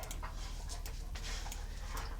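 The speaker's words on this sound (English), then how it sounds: "Sorry if you hear my dogs in the background," Several dogs play together in the background indoors, giving off faint panting and soft whimpering over steady room noise, with no talk.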